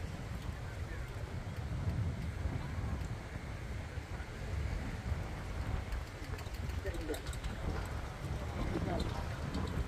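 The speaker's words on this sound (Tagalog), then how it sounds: "Ay, lakas ng hangin." Steady low rumbling wind buffets the microphone throughout, with faint voices and scattered rustling underneath.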